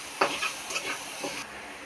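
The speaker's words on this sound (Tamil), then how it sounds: "நல்லா வாசம் வர வரைக்கும் நல்லா வதக்கணும்." Ingredients for rasam are sautéed in a pan: a soft, steady sizzle with a few light scraping stirs close by, fairly quiet, with no voices.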